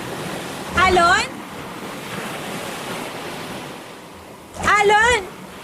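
Ocean waves wash steadily in a windy seaside setting, a continuous surf roar with wind rumble, interrupted twice by loud rising-and-falling whistled or sung tones layered over it.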